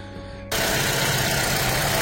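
An Opel 1.4 Turbo petrol engine turns over after a half-second lull and settles straight into a steady, close, even idle hum.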